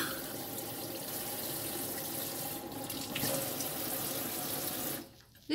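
Tap water runs steadily into a sink while a child's face is washed, a continuous close splashing stream that cuts off abruptly near the end.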